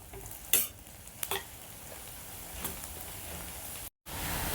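Onions sautéing in a pan for mutton varuval give a soft, steady sizzle, broken by a few louder scraping stirs of a spatula and a brief cut near the end.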